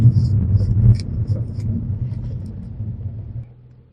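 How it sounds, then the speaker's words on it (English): A 2010 Nissan Maxima with an automatic transmission picks up speed, its engine rumble rising in bursts as the gears change, then easing back and fading near the end. "So driving normally, you can see I'm picking up speed, and the transmission just moves smoothly."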